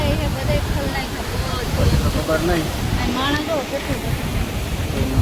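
Floodwater roars through several opened dam gates after heavy rain, a dense, steady rushing that fills the whole scene while people talk over it.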